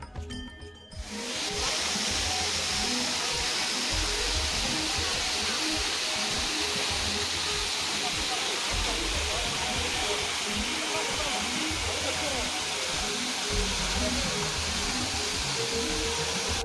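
Thusharagiri waterfall in Kozhikode roars steadily with a dense, unbroken rush of falling water, loud and close, continuing without pause after a brief quieter opening.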